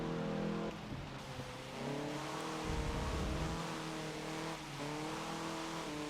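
Steady car engine drone with harmonic revving and a brief tire squeal from a video-game car driven in the rain, heard from the interior view; the engine hums continuously at moderate level, with no talking.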